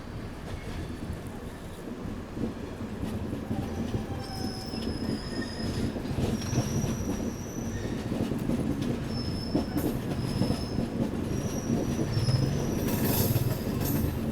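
Train wheels roll across the double diamond railway crossing at Nagpur, a continuous rumbling run of metallic clatter with high wheel squeals rising intermittently, steady and fairly close.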